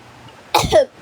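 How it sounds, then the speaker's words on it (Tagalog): A single sharp cough from a person recovering from a cold, close and loud, breaking a quiet background. "Inuubo ako"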